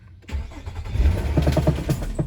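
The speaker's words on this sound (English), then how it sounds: "the engine started up" Engine of a Nissan Maxima cranking and catching, a low rumble rising into a loud, close start with rhythmic firing pulses that settle toward a rough idle.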